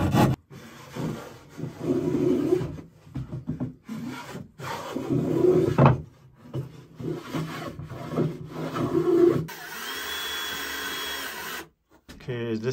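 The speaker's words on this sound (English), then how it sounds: "Maybe a little bit of finish sanding," Hand sanding on wood during a remote Alaskan cabin project, repeated rasping strokes with pauses, with people talking in between.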